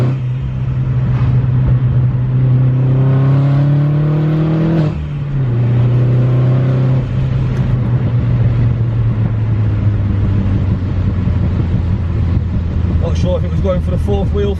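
A car accelerates hard on a wet road, its engine note rising through the gears with a steady loud rumble and road roar, while someone talks over it throughout.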